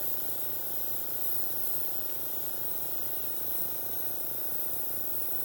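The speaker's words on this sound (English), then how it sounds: "that actually seems to be spraying now." A steady, continuous hiss of a spray gun spraying thinned paint onto metal, loud and unbroken throughout.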